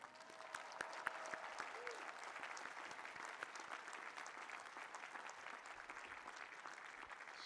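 An audience claps for graduates' parents and families at a graduation ceremony, a dense, continuous applause of many hands heard from within the crowd, with no voices over it.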